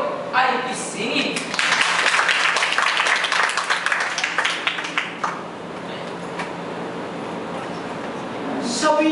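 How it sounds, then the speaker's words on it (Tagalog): Applause from the audience at a Balagtasan verse-debate at Jose Abad Santos High School. A dense burst of clapping swells in the first seconds and then fades into a lower, scattered patter, with speech mixed in. "ang dalawa'y salubungin ng matunog na palakpak"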